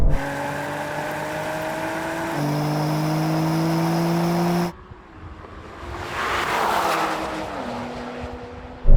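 A Mercedes-AMG C63, BMW M3 and Audi RS4 drag race, engines droning with rising tones as they accelerate through the gears, then an abrupt shift to a muffled, roaring pass with wind noise, loud and close.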